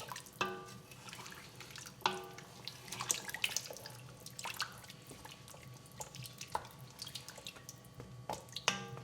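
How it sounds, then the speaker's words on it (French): Water is poured into a pot and stirred to dissolve a stock cube for a carrot soup, with soft, irregular drips, trickles and light clinks close by and no talking. "1 litre d'eau. Mélanger pour diluer le cube."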